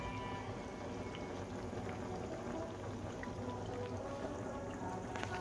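Raw potato fries frying in hot rapeseed oil, a steady, fine bubbling sizzle that stays even throughout with no voices over it.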